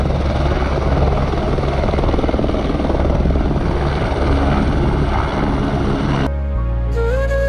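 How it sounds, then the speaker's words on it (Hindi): A helicopter landing near Kedarnath thunders nearby with rapid, continuous rotor chopping and engine roar, then the sound cuts abruptly into a short burst of music. "हेलीकॉप्टर उतर रहे हैं पहली पेड़ पे"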